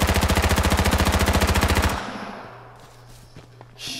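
Automatic weapon fire in the video game H1Z1, a loud rapid stream of shots for about two seconds, then it stops abruptly, leaving quieter background game sounds and a faint thump near the end.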